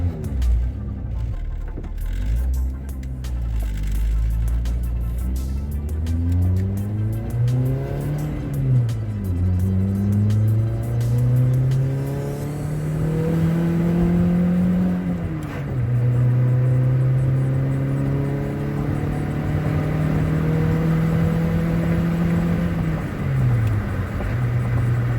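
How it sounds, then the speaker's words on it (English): A Honda Accord CB7 with a freshly built G23 VTEC engine accelerates from inside the car. The engine note climbs repeatedly through the gears, with shifts about every seven or eight seconds and a steady loud rumble throughout, and no voices. "Definitely my first drive in Robbie's car since I built this motor for him."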